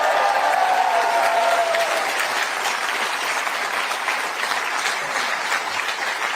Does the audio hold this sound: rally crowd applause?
yes